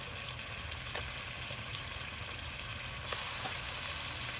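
Chopped tomatoes hit a hot pan of chicken kabsa base, giving a steady, moderately loud broadband sizzle with a low engine-like hum beneath, a few faint clicks scattered through and no talking.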